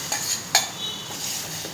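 Cooked dal being stirred into a spiced tempering in a pot, two or three quick scraping clinks of a spoon against metal over a soft background hiss, close and brief.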